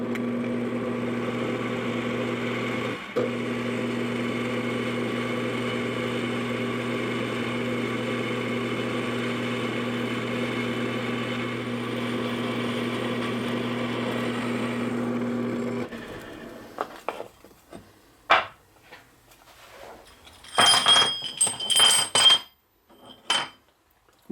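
A drill runs with a steady, droning whine while boring 7/32-inch holes in steel stock, holding constant for about fifteen seconds before stopping, followed by scattered metallic clinks and handling noises.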